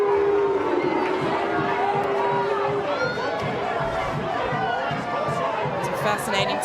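Football stadium crowd at an A-League women's match, Canberra United against Melbourne City, murmuring and shouting in protest over a foul claim, a broad sustained roar of many voices with a few louder calls standing out.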